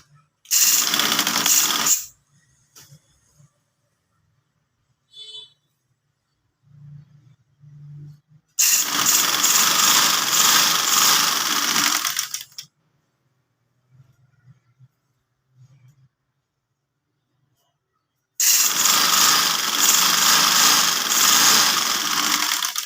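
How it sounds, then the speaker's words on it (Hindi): Sewing machine stitching a shalwar, running in three loud bursts of a few seconds each, separated by quiet pauses with faint handling sounds and no talking. "अब हम सिलाई करेंगे"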